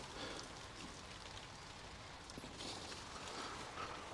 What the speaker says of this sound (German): Jetzt regnet es schon wieder.